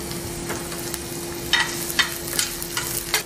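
Onion and green chili fry in a pan for a bread omelette. A low, steady sizzle runs under a few sharp scrapes from stirring.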